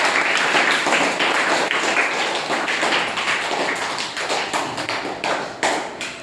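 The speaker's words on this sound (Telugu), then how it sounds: "ఇక్కడ ఆడిన వాళ్ళందరికీ మిగతా వాళ్ళందరూ క్లాప్స్ కొట్టండి" A classroom of children clap for the players who took part in a game, giving a brisk, fairly loud patter of hands that thins and turns more uneven toward the end.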